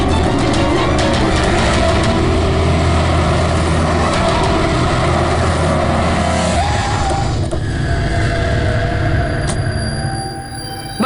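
Loud road noise of a car speeding through city traffic on a road while chasing and overtaking a taxi, a steady engine and tyre roar with rumbling low end filling the scene, easing slightly toward the end.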